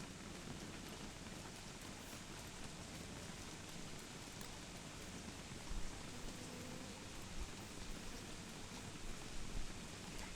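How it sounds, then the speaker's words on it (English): Steady rain falls in the survival video game Don't Starve, a continuous soft hiss of drops with a few slightly louder patter bursts, faint and alone with no talking. "We are quite in a bit of a pickle right now due to the rain"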